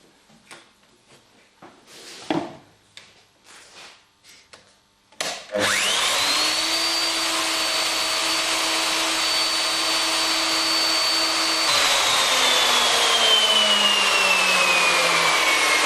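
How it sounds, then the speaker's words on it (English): Electric router cutting dovetails in wood: some knocks and handling, then the motor spins up to a loud, steady high whine that holds, with its pitch dropping slightly as the bit bites into the wood. "Once I've made those router cuts"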